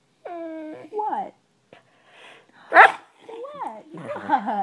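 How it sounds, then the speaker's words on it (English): A dog barks and yips several times at close range, with whiny, pitched-up vocal sounds between the barks and a loud sharp bark near the middle. "That was a loud bark."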